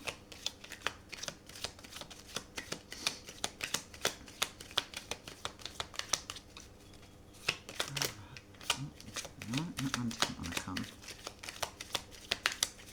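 Tarot cards shuffled and drawn, a dense, close, rapid riffle of papery flicks and snaps that continues for most of the span, briefly easing toward the end, with a little quiet talk.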